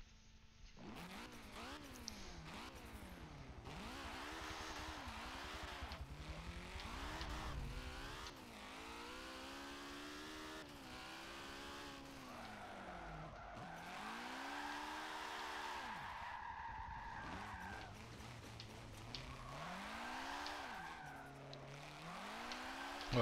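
Tires squeal in long sliding wails as a car drifts in Forza Motorsport 7, the engine revving and rising and falling in pitch through repeated slides, loud and continuous throughout.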